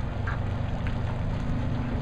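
Ducks gather at a feeding spot with turtles at the Shell Factory, giving a few brief quacks over a steady low background hum.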